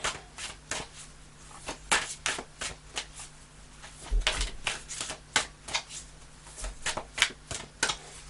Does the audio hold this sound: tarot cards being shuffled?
yes